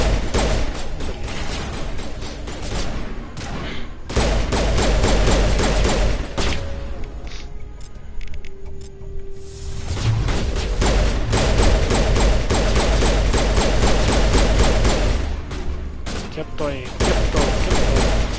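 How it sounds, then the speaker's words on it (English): Gunfire in a shootout in a dive bar in the video game Mass Effect, dense bursts of shots and impacts with a brief lull midway, a voice calling out once. "Tiroteos en un antro."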